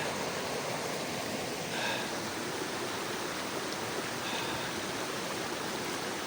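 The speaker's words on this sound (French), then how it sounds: "on est revenu au ruisseau" A forest stream flows in a steady, broad rush of water, close and continuous with no breaks, and no one speaks over it.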